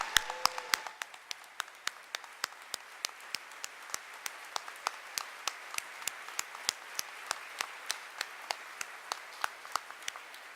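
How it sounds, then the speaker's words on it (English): A commencement audience applauds faculty and staff, a steady, moderately distant crowd clapping with sharp individual claps standing out, sustained for about ten seconds without talk. "if you would give a nice round of applause"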